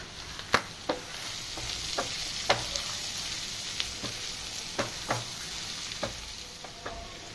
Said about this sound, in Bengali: আর একটু ফ্রাই হোক, তারপর আবার দেখাচ্ছি।